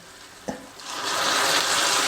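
A small splash of water goes into hot jaggery in a pan. A short knock is followed by a loud, building hiss that spreads into a steady sizzle.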